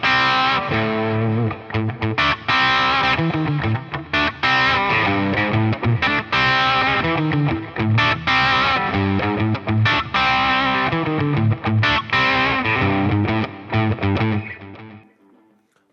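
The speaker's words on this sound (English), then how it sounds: "I put in channel 2, put in a bit of a crunch with some delay and reverb." Electric guitar through a Boss Katana amp on channel 2 with crunch, delay, hall reverb and tape echo, played as a loud sustained run of distorted chords and notes with echoing tails, ending in a fading decay.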